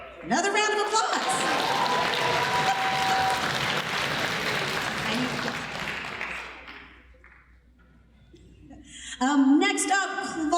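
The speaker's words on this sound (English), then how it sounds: "Another round of applause." An audience at a high school orchestra spring concert breaks into loud applause that swells, then fades away, followed by a voice speaking again near the end.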